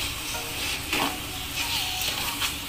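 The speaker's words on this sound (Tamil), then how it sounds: "இப்போ நம்ம இத நல்ல கிளறி விடலாம்" Pulur is stirred in a hot pan, a close sizzle of frying with repeated scraping and stirring strokes scattered across the clip, faint background noise beneath.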